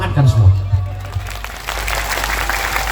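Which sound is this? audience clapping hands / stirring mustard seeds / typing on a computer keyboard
audience clapping hands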